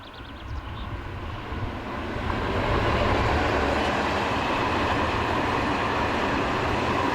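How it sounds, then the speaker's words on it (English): Eurocargo Rails Class 66 diesel locomotive hauling a loaded northbound stone freight train on the Paris to Cherbourg line near Mézidon, a steady loud rumble and wagon roar that builds and holds close by. "Eurocargo Rails Class 66 number 66029 heads a loaded northbound"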